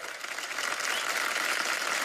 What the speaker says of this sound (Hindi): इन सब के लिए तालियां होनी चाहिए